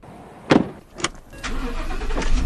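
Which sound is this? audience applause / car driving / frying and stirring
car driving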